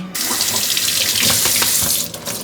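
Tap water runs steadily into a smaller pot holding an artichoke, filling it about halfway for boiling; a close, continuous splashing rush that tails off at the end.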